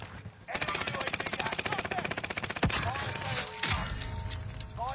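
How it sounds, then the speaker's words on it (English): Rapid automatic gunfire from a Call of Duty match, a dense burst of fast, evenly spaced shots lasting a few seconds, followed by a sharp louder blast and fading game noise. "They're shooting at graveyard."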